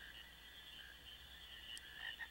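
Frogs croak in a steady, continuous chorus in the Final Fantasy IX PlayStation game, faint and even throughout with no voices over it.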